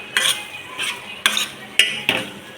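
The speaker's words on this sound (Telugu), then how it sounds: "దీన్ని బాగా ఎర్రగా రోస్ట్గా వేయించుకోవాలి." Mutton keema is stirred in a frying pan, a spoon scraping and clinking against the metal in four or five distinct strokes over a faint sizzle.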